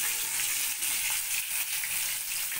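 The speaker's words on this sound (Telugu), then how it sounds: "బాగా వేయించుకోవాలి." Fish pakodi made from chapala fish fry in hot oil, giving a steady, bright, close sizzle that crackles without a break and with no voices.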